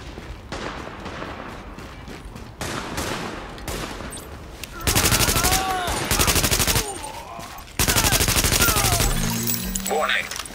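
Sustained gunfire rings out in The Division as hostiles fire on supplies, with bursts of rapid automatic shots and loud volleys that stop and restart several times. An automated warning voice cuts in briefly.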